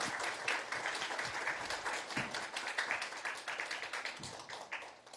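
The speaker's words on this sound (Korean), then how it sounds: "우리 수고해주신 본부장님, 원장님, 그 우리 개발진한테 우리 박수 한번 좀 보내주시죠" Reporters and staff at a briefing on the Nuri rocket's engine test launch clap for the development team, a lively patter of distinct hand claps that holds steady and tapers slightly.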